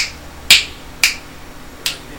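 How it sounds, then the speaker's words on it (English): Three light finger snaps, close and crisp, spaced about half a second apart and then a bit longer, each a short sharp click alone against a quiet room with faint background hiss. "Even a very light snap of the fingers"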